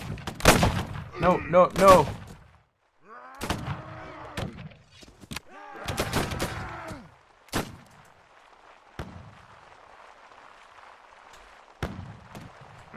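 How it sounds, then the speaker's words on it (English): Musket volleys from soldiers in the naval strategy game Caribbean!, several sharp cracks and booming shots spread over the span, some clustered, with someone talking over them. "I want my guys to shoot"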